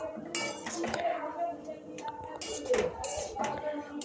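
Cabbage with coriander leaves is stirred in a cooking pan: scattered metallic clinks and scrapes of a utensil against the pan come in short bursts with brief pauses between them.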